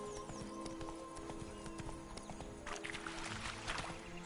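Roach, a horse in The Witcher 3, running with rapid rhythmic hoof clip-clops over a steady ambient background, the pace quickening and growing louder toward the end.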